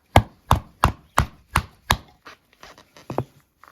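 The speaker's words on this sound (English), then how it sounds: "to see how stable that edge is, we'll do a bit of a cross grain batoning." Cross-grain batoning of wood with a Civivi Cloud Peak folding knife: six sharp, evenly spaced thwacks of a baton driving the blade, then softer, irregular knocks and cracks as the wood splits, close and loud.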